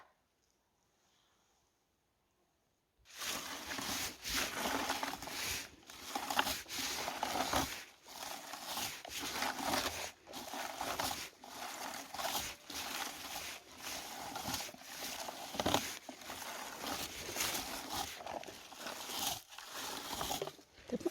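Light rain patters steadily through a forest after a quiet opening, a soft broadband hiss with faint scattered drips and rustles throughout.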